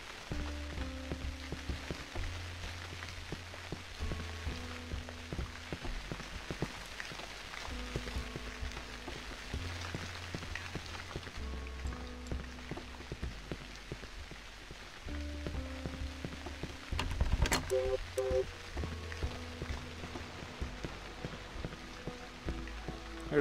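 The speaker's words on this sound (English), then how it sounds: "There's actually a raindrop physics for the water right here." Rain falls on water in the horror video game Cry of Fear, a steady hiss and patter that runs throughout over looping low ambient tones, with a brief louder burst partway through.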